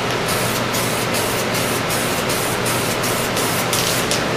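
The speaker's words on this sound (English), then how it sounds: "It's the base coat of the mydipkit. Test spray real quick." Aerosol spray paint hissing as a mydipkit base coat goes on in a continuous, steady burst, loud and close, with faint rhythmic pulses running through it.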